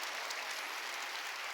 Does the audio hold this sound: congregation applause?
yes